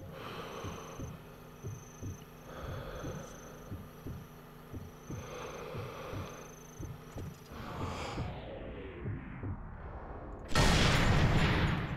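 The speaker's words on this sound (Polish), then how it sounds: "Wiedziałem, że teraz będą te wybuchy, więc mnie zagłuszy." Gunfire and explosions in the video game Sniper Elite III: Afrika: a run of rhythmic heavy thumps under a steady hum, then a swelling, fading rumble and a sudden loud burst of noise near the end, no voices.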